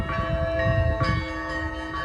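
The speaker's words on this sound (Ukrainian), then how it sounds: "Зараз, мабуть, почалась вечірня служба, тому що дзвонять дзвони" Church bells ringing for an evening service beside a park on the outskirts of Kyiv in autumn, sustained metallic tones with a few louder strikes, heard from a moderate distance and alone.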